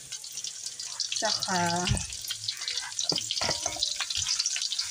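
Onions and garlic frying in hot oil for pancit palabok, a steady close sizzle that runs under a woman's speech.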